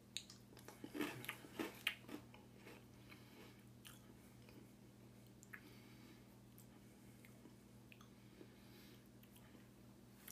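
Crunchy sugar-cookie-flavored breakfast cereal being chewed close up, with a cluster of loud crunching bites early on, then quieter intermittent chewing over a steady low hum.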